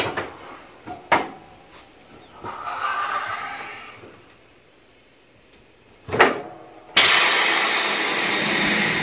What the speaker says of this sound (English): This is all working off my air compressor over here.